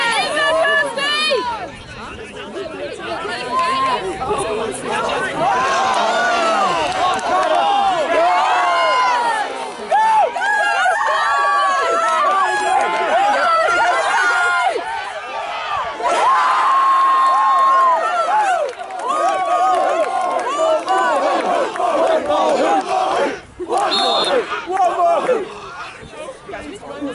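Spectators cheer and shout steadily at a quidditch match between Oxford Quidlings and Flying Chaucers, a dense crowd roar with overlapping voices and chatter that holds loud and continuous throughout.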